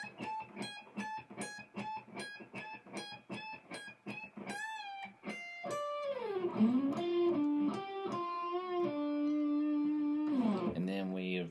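Electric guitar solo lick from a rock song, a quick run of plucked staccato notes leading into sustained, bending and vibrato-laden lines with string pulls, played close and clear without any talking.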